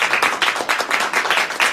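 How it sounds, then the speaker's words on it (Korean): A crowd applauds to welcome a speaker at a People Power Party student opening assembly at Dankook University's campus: dense, steady clapping from many hands, fairly close and even throughout, with no talking over it. "큰 박수 부탁드리겠습니다"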